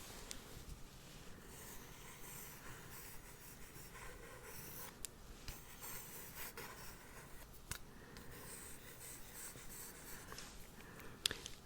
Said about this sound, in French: J'ai prévu un stylo, enfin un crayon gris